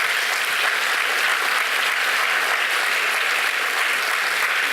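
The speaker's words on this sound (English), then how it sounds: "So let's give all of our teachers an applause." An audience applauds teachers at a distinguished lecture event, with dense, steady clapping filling the hall at even loudness throughout.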